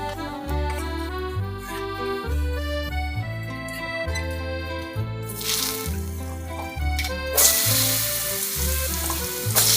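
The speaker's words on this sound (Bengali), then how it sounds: "জিরেটা ভাজা হয়ে গেলে আমি তুলে উঠিয়ে রাখবো।" Cumin seeds fry in leftover fish-frying oil with a crackling sizzle that swells in bursts, heard beneath prominent rhythmic background music.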